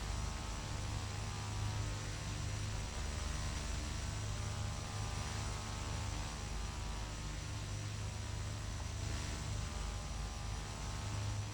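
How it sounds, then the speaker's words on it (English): A King Air 200 turboprop engine runs steadily after startup, a constant loud droning hum with a high whine that holds level throughout, with no voices. "Okay, abort start, engine clearing, first engine startup."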